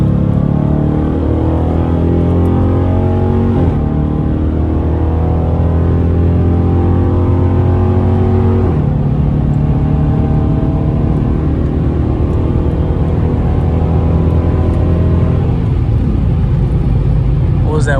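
A 5.7L Dodge Charger R/T pulls hard at night, its V8 roar climbing steadily through the gears toward 120 mph with brief shift dips, loud and continuous from inside the cabin.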